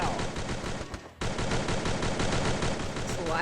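Rapid, dense gunfire from the Free Fire battle game, a continuous barrage of sharp close shots with a brief pause near the one-second mark, then sustained firing resumes.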